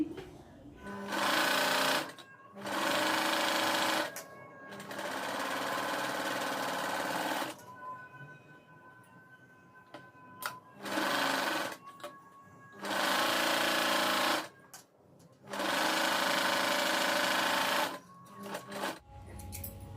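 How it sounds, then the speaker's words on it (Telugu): A sewing machine straight-stitches blouse pieces in several loud, steady bursts of rapid whirring, each lasting a few seconds and separated by quieter pauses with faint handling noise, heard close up. "ముందుగా వీటిని స్ట్రైట్గా కుట్టు వేసేసుకోండి రెండు పీసులకి"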